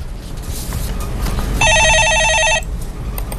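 A telephone rings with an incoming call, one loud, sharp electronic trill lasting about a second in the middle of quiet room tone, with no one speaking over it.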